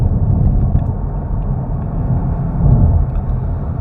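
A facelifted Kia Stinger GTS driving on a road, heard from inside the cabin as a steady, loud low rumble of engine and tyre noise without a break.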